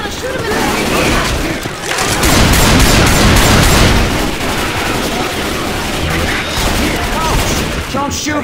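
Loud, dense gunfire from The Parish video game, with sustained automatic bursts and heavy overlapping shots forming a near-constant barrage, while voices shout over the combat.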